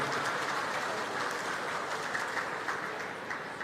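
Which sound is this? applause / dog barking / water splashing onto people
applause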